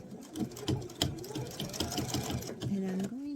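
A sewing machine stitches a short seam on a travel pouch, its steady motor hum running under a voice as she talks over it.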